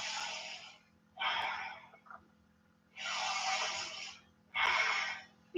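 Slow, deep breaths during a chair pose yoga flow: four long airy breaths, two inhales and two exhales, each about a second long, close and clear, with quiet pauses between them.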